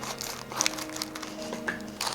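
Scissors snip through an egg salad tamago sandwich wrapped in parchment paper in a home kitchen, giving soft crinkling and crunching paper sounds in a few close bursts over a faint hum.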